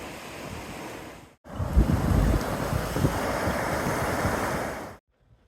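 Small falls on the Weaver River at a portage give a steady rushing roar, with wind buffeting the microphone; the sound cuts briefly near the start and stops before the end.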